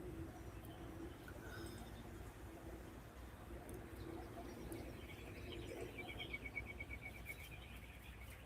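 Birds sing and coo faintly in the background behind a steady outdoor hum, with scattered chirps and higher trills that grow a little clearer toward the end.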